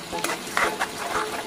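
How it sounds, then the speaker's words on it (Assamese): Onions fry in a hot pan and are stirred, with scraping strokes of the spoon repeating over a steady close sizzle. No one speaks. "মই অলপ ফ্ৰাই কৰি ল'লোঁ এয়া দেখিছেনে পিঁয়াজখিনি"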